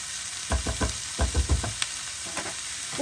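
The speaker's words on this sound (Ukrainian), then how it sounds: "поки жариться цибулька з грибочками" Onion and mushrooms fry in a pan for a cabbage and mushroom pie filling, with a soft steady sizzle broken by a run of close, rhythmic scraping stirs from a utensil against the pan.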